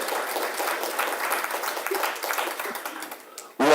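Audience applause at a community children's event, a steady wash of many hands clapping for over three seconds, then fading briefly before a sudden louder burst at the end.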